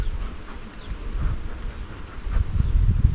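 Honey bees buzz steadily around a beehive in an apiary, a dense, continuous low drone that swells slightly louder toward the end, with no voices.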